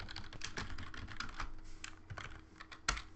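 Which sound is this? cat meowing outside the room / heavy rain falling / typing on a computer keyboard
typing on a computer keyboard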